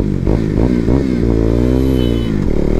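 KTM Duke 390 BS4 motorcycle with its stock exhaust revving close up, several quick throttle blips rising and falling in pitch, then a sustained loud rev.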